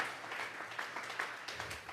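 A church congregation claps their hands together as an offering to God during a Sunday service, making a dense, steady patter of many hands with a few sharper accents, heard from a moderate distance.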